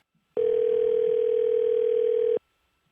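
A telephone dial tone for an outgoing fan phone call sounds as one steady, clean, moderately loud tone lasting about two seconds, then cuts off abruptly into silence.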